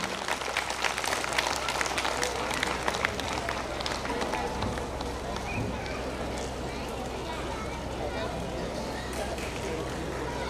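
Audience applause fills a school annual function, steady dense clapping from a crowd that stays loud for the whole stretch, with murmuring voices mixed in.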